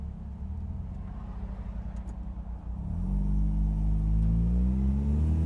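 Mazda MX-5 NA 1.6 Cup race car on a track, heard from inside: a low rumbling idle that swells into a loud droning engine note as the car pulls away and holds revs.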